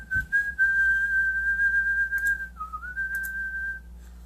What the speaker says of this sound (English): I love whistling.